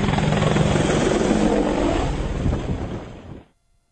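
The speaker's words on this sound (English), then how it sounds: "Sergeant Mark Maitland flies a Lynx, the Army's utility helicopter" An Army Air Corps Lynx utility helicopter roars close by, a dense steady rotor and engine din that fades quickly and cuts off near the end, with no speech.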